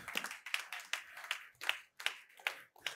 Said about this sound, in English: Can you clap? Just clap for Jesus.